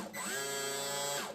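Electric motor of a Proboat Impulse 32 RC boat running on the bench, a smooth steady whine that spins up, holds evenly for about a second, and winds down, close and alone.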